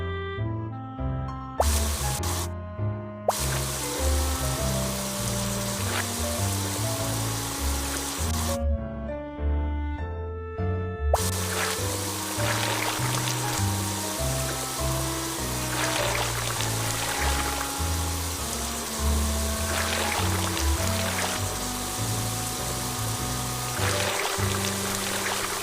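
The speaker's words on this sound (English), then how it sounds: "First, drag the water sprayer to rinse off the mud." A water sprayer in a BabyBus children's game rinses off mud, splashing and pouring steadily against a bright electronic tune, with soft dripping and trickling running through the whole stretch.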